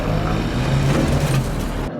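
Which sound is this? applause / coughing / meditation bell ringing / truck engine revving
truck engine revving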